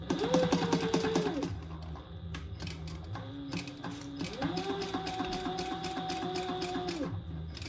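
A sewing machine stitching fabric for a slim duffle bag, running in a few short bursts with pauses and speed changes, close and clear with a rhythmic mechanical clatter.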